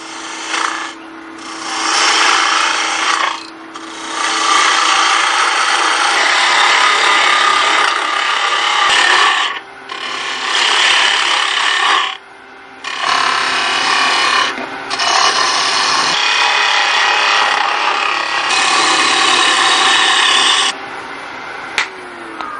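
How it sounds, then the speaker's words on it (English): A half inch spindle gouge shaving wood on a lathe while shaping a miniature bowl, a loud scraping hiss in repeated passes of a few seconds each, broken by brief pauses. "This is a half inch spindle gouge."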